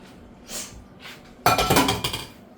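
A utensil scrapes and knocks against a metal can or pot while the last bit is emptied into a chicken and dumpling pot, two soft scrapes followed by a loud burst of clanking and clinking metal.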